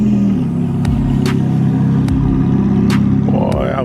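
A car engine at a busy outdoor car meet holds a loud, steady rumble with rising revs, and brief sharper bursts break through the drone near and constant throughout.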